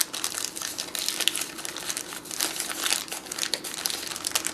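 Dry whole tobacco leaves being rolled and folded up by hand make close, continuous crinkling and crackling with small rustling bursts throughout.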